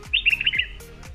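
Small birds chirp in a banana plantation, a bright high twittering run over several soft low thumps, close and clear with no talking.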